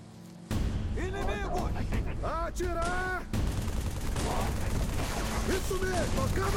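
Combat in Halo 3 with bursts of rapid gunfire and automatic weapon fire running loud and nearly continuous, while voices shout and call out over the shooting.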